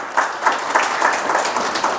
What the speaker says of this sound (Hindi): बजाओ ताली गुप्त पुरुषार्थियों की